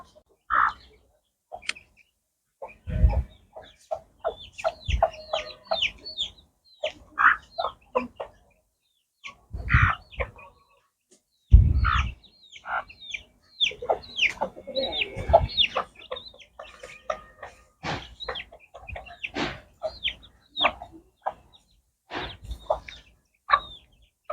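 A rooster of the owner's own breed crows loudly and close while hens keep up a steady run of overlapping clucks, with some quieter, distant calls behind.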